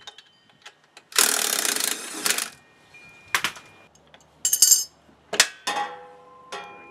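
A wrench works loose the bottom bolt of a rear shock on a 1999-2004 Jeep Grand Cherokee. Several short bursts of metallic ratcheting are separated by quiet gaps, with sharp clinks between them.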